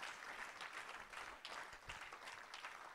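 Church congregation applauding to acclaim the Lord during a sermon, a steady wash of clapping from many hands, loud and continuous throughout with no voices standing out.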